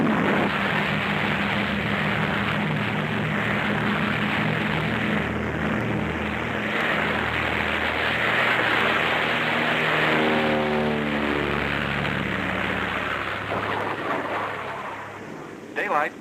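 Propeller planes taking off from the aircraft carrier Philippine Sea in darkness near Antarctica, a loud sustained engine drone that rises and shifts in pitch as they pass, with a voice speaking over it.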